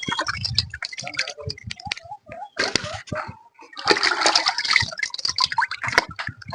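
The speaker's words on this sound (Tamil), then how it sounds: "மீன் இப்படிதான் சுத்தமா கழுவணும்" Running water rinsing fish clean in a kitchen, splashing and trickling in irregular bursts with clatters and gurgles, a short lull midway, then a fuller stretch of gushing water.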